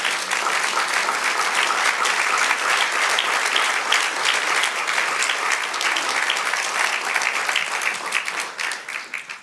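Sustained applause from a church congregation, dense and loud throughout, a steady wash of many hands clapping that thins slightly toward the end.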